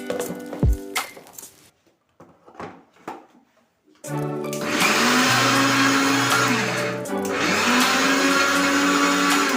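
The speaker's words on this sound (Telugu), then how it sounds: "ఇప్పుడైతే ఇది మిక్సీ పట్టేస్తున్నాం ఫ్రెండ్స్" A mixer grinder grinds coconut for laddu, starting after a few quiet knocks and then roaring loud and close with a high whine, briefly easing before continuing.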